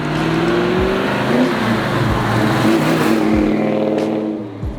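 A black Chevelle with a 450 horsepower LS6 engine revs loudly and close by, a sustained roar that swells and holds with rising and falling pitch sweeps, no talking over it.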